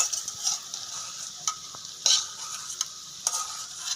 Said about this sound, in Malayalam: നെയ്യ് ഒഴിച്ചു കൊടുക്കാം കാഷ്യൂനിട്ട് ഇടും ഇനി നമുക്കിത് ചിക്കനിലേക്ക് ഇട്ട് കൊടുക്കാം